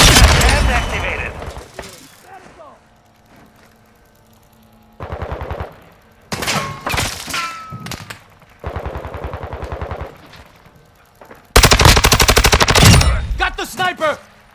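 HCR 56 light machine gun firing in Call of Duty: Modern Warfare II, loud rapid bursts in several separate stretches, with game effects and quieter gaps between them.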